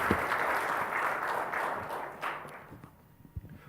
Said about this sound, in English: And again, a round of applause